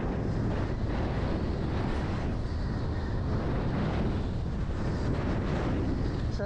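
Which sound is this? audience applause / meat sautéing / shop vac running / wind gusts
wind gusts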